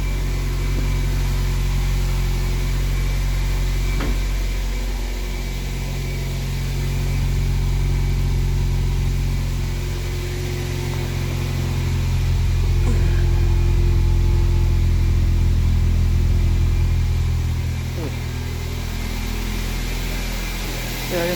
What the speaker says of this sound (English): I guess I can hear the exhaust.